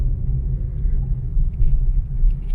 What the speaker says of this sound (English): This is traffic now.